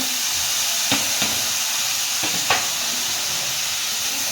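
Onions and tomatoes fry in a pan for a vegetable kurma, a steady loud sizzle and hiss broken by a few sharp scraping stirs of a spoon.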